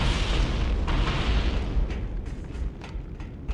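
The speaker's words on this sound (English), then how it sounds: "Now he's throwing the grenade backwards." A grenade explodes in the Cursed Halo video game with a loud, sustained, rumbling blast that slowly fades across the whole stretch.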